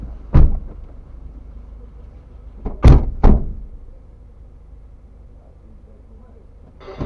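A car's rear door thumps once, then after a pause two more heavy thuds follow close together as it is pulled shut, with quiet background hum between.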